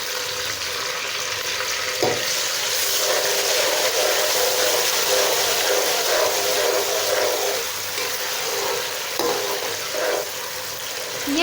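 Tomato puree sizzles and spits in a pan of browned fried onions while cooking chickpea curry, a loud, steady frying hiss with a few stirring scrapes and clinks, and no talking.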